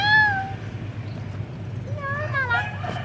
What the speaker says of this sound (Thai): มาสวัสดีน้องเหมียว